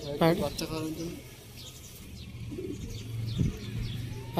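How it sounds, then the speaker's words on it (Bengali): Pigeons kept by a fancier coo in short throaty bursts, close by at first and then fainter, while people talk quietly in the background. "এটা দেখুন পায়রাটা খুব সুন্দর পায়রা"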